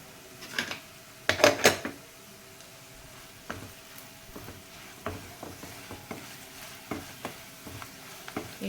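Chili powder sizzles in hot oil for a home-style chicken curry, with a soft steady fry broken by a burst of sharp spoon-against-pan scrapes and scattered clicks as it is stirred, close and fairly quiet.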